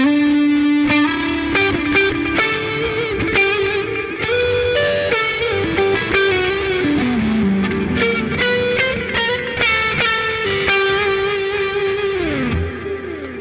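Strandberg Boden electric guitar with a full, rounded neck humbucker tone playing a melodic phrase with slides and bends, lightly driven with some effects, ending on a fading note.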